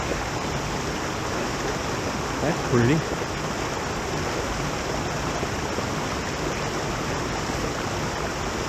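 A creek runs steadily in a broad, even wash of flowing water near Wild Burro Falls, with a brief spoken remark partway through.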